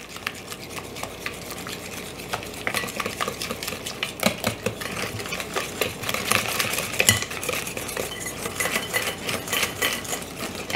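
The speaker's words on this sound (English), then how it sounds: "And just mix this around till it's really combined." Three eggs being mixed by hand into softened butter for gluten-free snickerdoodle dough, with a quick, uneven run of scraping and clicking spoon-against-bowl strokes that keeps up throughout, close and moderately loud.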